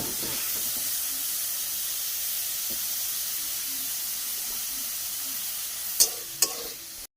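Spices being sautéed for a curry, a steady hissing sizzle in oil with faint stirring scrapes, ending with two sharp knocks of a utensil against the pan.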